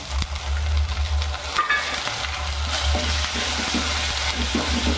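Onion paste sizzles and fries steadily in a pan over high flame with ginger-garlic paste, a continuous close crackle with a low hum underneath and no talking.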